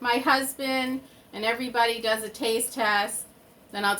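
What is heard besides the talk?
No everyday noises stand out.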